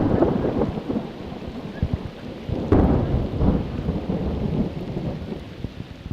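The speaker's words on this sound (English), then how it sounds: "We had quite a rainstorm at the end of the day" Heavy rain pours steadily during a thunderstorm, with low rumbling thunder rolling underneath and a sharper crack near the middle, continuous and moderately loud with no voices.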